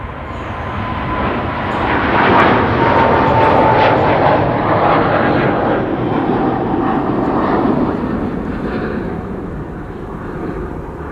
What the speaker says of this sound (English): you guys are picking up the engine sounds of the 767